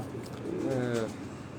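A black-faced pigeon coos nearby, a low, soft, rolling call with a gentle wavering rhythm against faint background noise.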